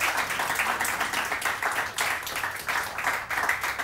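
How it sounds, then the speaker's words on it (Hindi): A studio audience on a morning television show claps for a guest, with close, crisp handclaps pulsing in uneven waves and sustained from start to finish. "बहुत सारी तालियां।"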